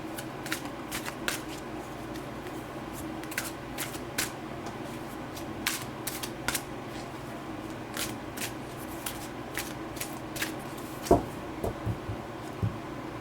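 Tarot cards are shuffled over and over in quick, crisp riffling bursts, close and fairly quiet, with no talking.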